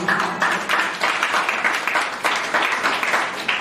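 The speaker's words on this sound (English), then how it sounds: "If you are clapping, you can clap for Jesus." A church congregation claps in a rhythmic, fairly even pattern of overlapping hand claps, moderately loud and close, with no talk over it.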